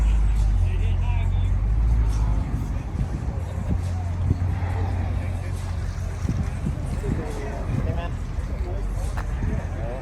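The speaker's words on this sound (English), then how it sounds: "Got a few cars coming in right now." Cars roll into a Sunday car show in Castleberry, low engine rumbles and idling passing nearby in a steady stream, with someone talking over the motor noise throughout.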